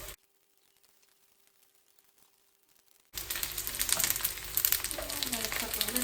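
Okonomiyaki frying in a pan, heard as a close, busy crackling sizzle that bursts in abruptly after a few seconds of near silence and keeps going steadily to the end.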